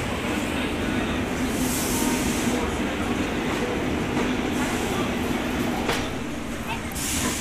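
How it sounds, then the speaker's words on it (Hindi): An express train pulls into Kanpur Central station with a steady, loud rolling rumble and a broad hiss that stays close and continuous throughout. "साथ साथ आ रही हैं दोनों गाड़ियाँ"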